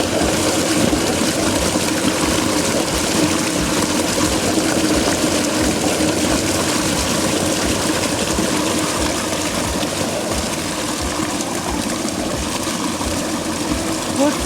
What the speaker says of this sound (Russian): а подо льдом бушует водопад